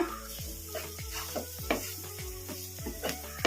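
Boiled, mashed potato is stirred and mixed in a pan for green peas chaat, giving a rhythmic series of soft scraping strokes with light sizzling underneath, no speech.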